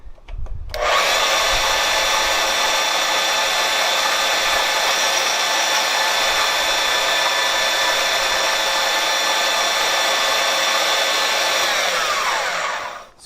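A power tool blade cuts off a small bolt in one steady, loud, high whine lasting about twelve seconds, close by and alone, with no talking.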